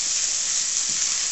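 Radicchio frying in a still-warm pan, giving a steady, close, continuous sizzle with no voices over it.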